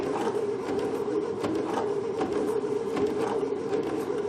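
A Babylock Sashiko sewing machine runs continuously with a steady mechanical hum and rapid rhythmic ticking of the needle mechanism, close and even, with no talking.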